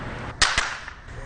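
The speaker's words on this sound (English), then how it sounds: "I'm talking about fireworks" Fireworks from a holiday fireworks tent pop over a steady hiss: two sharp, loud bangs in quick succession, the first stronger, with no voices.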